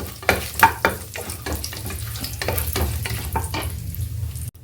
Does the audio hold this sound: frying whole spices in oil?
yes